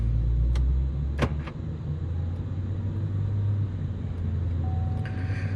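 Pickup truck engine held at steady high revs on a large dyno, a continuous deep drone and rumble with a few sharp clicks and a thin whine near the end.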